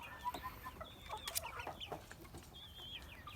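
White Leghorn chickens clucking softly nearby, scattered short calls with some higher squawks over a quiet outdoor background.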